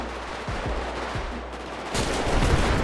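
Rapid bursts of GTA V gunfire crackle back and forth during a gang war, a few sharp shots early, then a denser volley of automatic fire toward the end.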